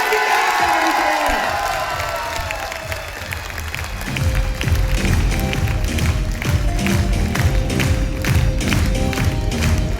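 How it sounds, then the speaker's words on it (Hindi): Loud seminar audience applause for coach Satpal Pehlwan, with dense clapping and cheering that dips briefly then swells again, steady crowd noise throughout. "जोरदार ताली होनी चाहिए, जोरदार वाली ताली पहलवान जी"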